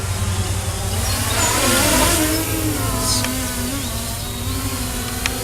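A small electric motor in an MJX Bugs 6 RC car whines loudly and close on the throttle, a steady buzzing drone whose pitch sweeps up and down as it is punched.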